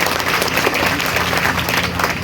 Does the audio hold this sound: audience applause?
yes